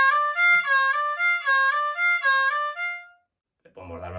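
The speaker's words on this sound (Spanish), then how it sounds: "si hacemos esta secuencia una y otra vez, suena muy bien, suena así." A C harmonica repeats a draw-bend blues lick on holes 4 and 5 several times in a steady rhythm, bright reedy notes bending down and up, close and alone, followed after a pause by a brief low sound.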